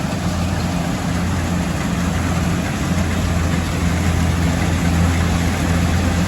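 Combine harvester and tractor engines idle together on a Thai farm, a steady low diesel drone with a continuous rumble throughout and no speech.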